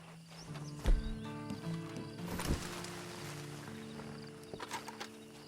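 Hooves clip-clop at a walking pace with a horse snorting and whinnying in Red Dead Online, over a quiet ambient hum.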